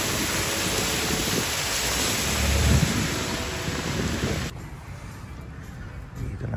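Heavy rain pours steadily in Taiwan during the rainy season, a dense loud hiss with a low rumble of thunder midway, then the downpour sounds more muffled and distant for the last stretch.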